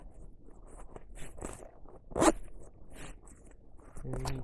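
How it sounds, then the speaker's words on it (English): A camo bag cover is zipped up in one long rising pull near the middle, with softer fabric rustles and handling around it and a brief voice at the end. "And zip it up."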